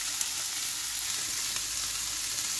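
Chili flakes sizzle steadily in a hot pan while Kiefererbsen are being cooked, a continuous close, bright frying hiss with no voices.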